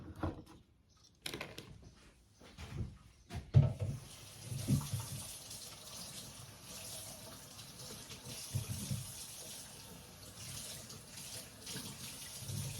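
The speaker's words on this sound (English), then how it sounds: "I'm just over here rinsing celery." Tap water runs steadily over celery being rinsed at a kitchen sink while making bone broth, a continuous close splash with a few louder knocks and gushes near the start.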